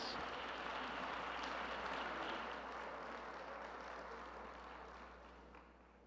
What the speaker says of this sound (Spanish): de un reconocimiento a la señora Morshed con el aplauso de todos ustedes.